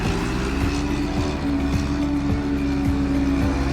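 A tractor is driven indoors, its engine running steadily and loud with a low rhythmic thrum and faint regular knocks, close by, with no talking.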